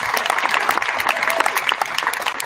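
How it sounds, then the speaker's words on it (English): In-person audience at a Pittsburgh event claps in a short, lively burst, dense and close with a few sharp individual claps standing out. "I haven't heard real in-person applause like that for about 6 months or so."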